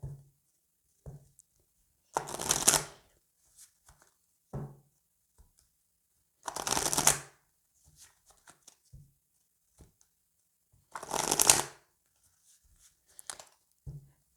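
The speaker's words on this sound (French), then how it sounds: "on va aller faire le tirage avec l'oracle de la triade" Oracle cards shuffled for a tarot-style reading make three bursts of crisp riffling, each about a second long and several seconds apart, with small taps and handling sounds between them in a quiet room.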